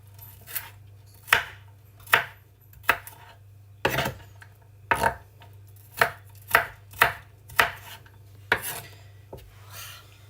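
A knife chops onions on a board in a home kitchen, about a dozen sharp, uneven knocks spread across the stretch, close and distinct over quiet room tone.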